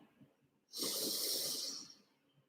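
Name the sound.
deep inhale before singing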